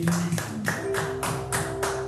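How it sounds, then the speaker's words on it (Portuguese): Church congregation clapping together during a worship service, a steady rhythmic beat of hand claps roughly every third of a second over a sustained musical tone, loud and close. "Palmas para Jesus, quem está aqui"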